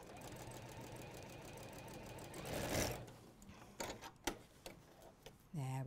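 A sewing machine runs steadily, stitching a quarter-inch quilt seam at a short stitch length, a fast mechanical whir that slows and stops, followed by a few clicks and brief handling noises.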